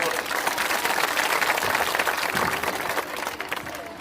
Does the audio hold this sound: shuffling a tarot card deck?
no